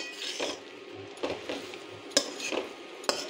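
A spatula stirs a vegetarian vegetable chop filling mixed with crushed peanuts in a pan, making quiet scraping strokes in a loose rhythm with a couple of sharper clinks against the metal.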